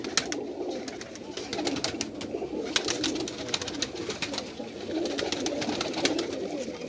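Pigeons cooing and fluttering, a dense flock heard close with soft repeated coos under a constant rustle of wings and scratching, no talk.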